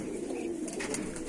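A soft coo from a Rampuri Kalsara pigeon, low and throaty, heard once up close against quiet background hiss.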